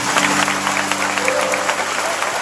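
An audience applauds at a speaking event, with dense, steady clapping that fills the whole short stretch at moderate loudness.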